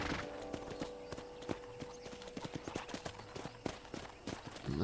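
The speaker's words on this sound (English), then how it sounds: "I picked out a fine horse for you." Horse hooves clip-clop in a steady trotting rhythm through Red Dead Redemption on a ranch, with a brief whinny and game music underneath.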